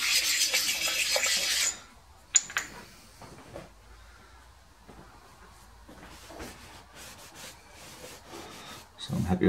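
Metal part being rubbed flat by hand during a powered lathe slotter build, a loud abrasive rasping stroke at first, then quieter scattered rubs, knocks and handling noises in a workshop, no talk.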